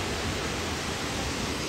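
Ozud Waterfall, about 130 meters high, fills the whole clip with a steady, dense roar of falling water, broadband and unchanging, with no voices.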